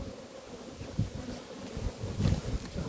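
Honeybees buzz around beehives in an outdoor apiary, a dense, continuous hum of many insects close to the microphone, mixed with some wind rumble.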